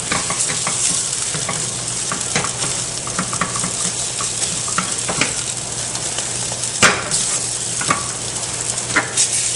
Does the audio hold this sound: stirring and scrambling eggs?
yes